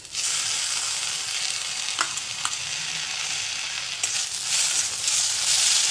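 Tomatoes fry in a pan with a steady close sizzle and occasional clinks and scrapes of stirring, with no talk.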